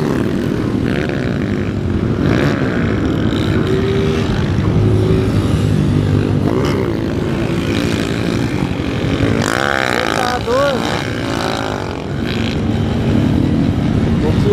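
Motorcycle exhausts rev hard at a wheelie event in Jaguaré, a dense, continuous engine roar filling the scene, with people talking over it throughout.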